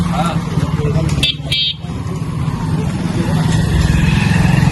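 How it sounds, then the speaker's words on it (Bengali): Engine of a Suzuki GSX-R motorcycle on a ride, a steady close drone running throughout, with a brief dip near the middle and a short high horn-like tone before it; a voice talks over the engine. "আজকে আমি ড্রাইভ দিব চাচুর বাইক"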